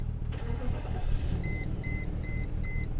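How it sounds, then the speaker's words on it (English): A car engine idles steadily with a low, even rumble, with a series of high electronic chimes repeating in the background. "this car idles so smoothly, so brilliantly"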